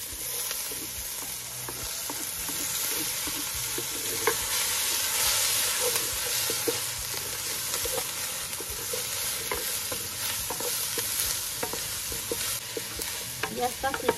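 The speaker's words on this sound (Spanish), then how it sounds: "vamos a freír lo que es la verdura. Le agregamos el ajo y la cebolla" Garlic and onion frying in the same pan used for pork chops, a loud continuous sizzle with frequent spoon scrapes and stirring clatter, no speech.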